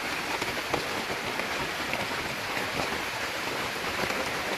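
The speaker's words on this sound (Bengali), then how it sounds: "বাইরে পুরো বৃষ্টি হচ্ছে" Heavy rain pours steadily on a tent on a fishing trip in the Andaman area, a dense, continuous hiss and patter close around the shelter with no voices.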